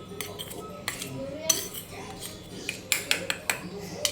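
A spoon mixes a chaat-masala-seasoned dish in a bowl, giving scattered sharp clinks and scrapes of metal against the bowl, a few clustered near the end, at moderate volume with no talk.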